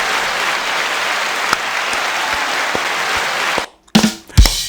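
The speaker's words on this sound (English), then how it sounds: "I just want to give myself a round of applause for making that meme." A canned round of applause plays as a sound effect, steady dense clapping and cheering that cuts off abruptly near the end, followed by a few brief clattering noises.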